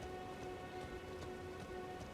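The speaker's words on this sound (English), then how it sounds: "We get some rain down here." In Elden Ring's beach area, rainfall pours in a constant, uniform patter, a close and continuous wash of drops with a faint low rumble beneath and no talking.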